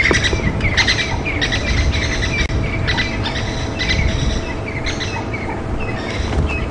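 Babblers chasing a cuckoo during a morning safari drive at Djuma Game Reserve, with busy overlapping chirps and squawks repeating throughout. The calls sound close and loud over a steady low rumble, with no talking.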